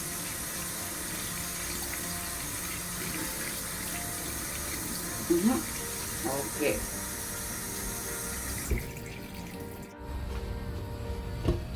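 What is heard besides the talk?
washing basmati rice in a strainer under running tap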